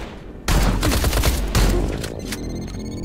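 A heavy burst of rapid gunfire comes from robots in the video game INDUSTRIA, loud and close, surging twice and then trailing off into ringing echoes.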